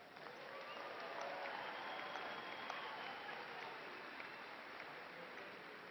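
A large audience at a university commencement ceremony applauds graduates, a broad, continuous clatter of many hands that holds steady for about six seconds, slightly muffled and somewhat distant.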